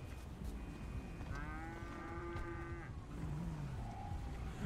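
A cow moos in the GTA 5 video game, a long drawn-out low call followed by a shorter one, set against a steady rumble of traffic and ambient game noise.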